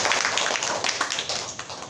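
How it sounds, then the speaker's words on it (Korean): A church congregation claps briefly to welcome visiting mother and daughter, a short burst of scattered hand claps in a room that fades out within two seconds. "우리 박수 한번 쳐드릴까요?"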